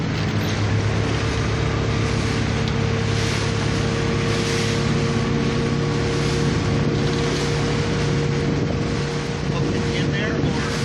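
A motorboat racing in an IKC 2016 event speeds up to cross in front of a fishing boat, its steady engine drone loud and close under heavy wind buffeting, with no pause for the full stretch.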